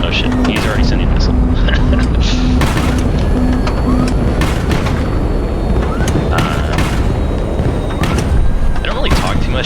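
Missile launches and explosions in a space combat video game: a run of loud, sharp booming blasts at irregular intervals over a rumbling low backdrop, with a brief repeating electronic beep early on.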